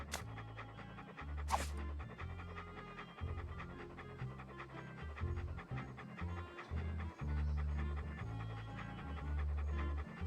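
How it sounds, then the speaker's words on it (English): A dog pants fast and steadily in the Monkey Island 2 video game, rhythmic short breaths over looping game music, with a couple of brief sharp clicks. "What a ferocious looking dog."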